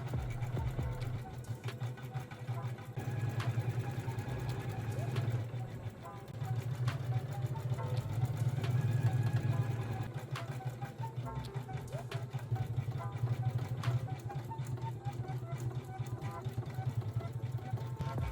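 An embroidery machine stitches the outline of a design on fabric with a steady, fast mechanical hum and chatter, close and continuous, pausing briefly near the start before running on, with a person talking over it.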